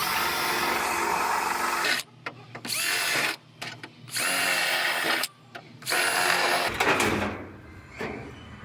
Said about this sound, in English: I'm just going to drill through this first layer of the new floor now